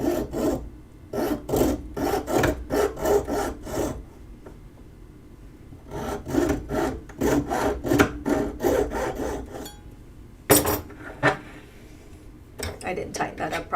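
Hand saw cutting wood in repeated bursts of rasping back-and-forth strokes, close and crisp, with pauses between runs and a sharp clatter near the end.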